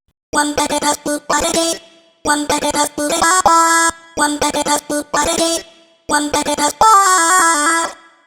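A bright melody built from chopped, pitch-shifted vocal snippets, short choppy syllables in four repeating phrases with brief gaps between them.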